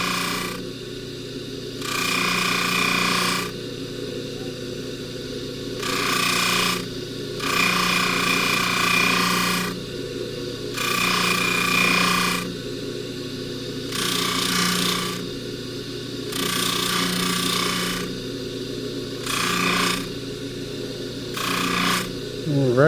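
Welding on an end tab of a chain comes in a string of roughly two-second crackling bursts separated by short pauses, heard up close over a constant low background hum.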